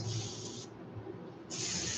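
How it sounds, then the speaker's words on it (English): Iridescent white paint hisses from a sprayer onto a fishing lure jerkbait, two steady bursts of close spray separated by a short pause. "I'm basically just spraying right over the black, and I'm going to cover it totally"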